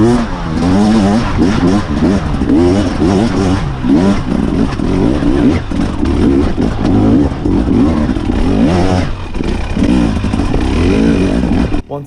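Husqvarna TE300 enduro motorcycle (2024 model) being ridden: a loud, close two-stroke engine blaring and revving in repeated surges with rattling clatter throughout, with no voices over it.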